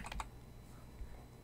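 Light keystrokes on a computer keyboard, a couple of soft quick taps at the start and another faint tap later, quiet and close with no talk.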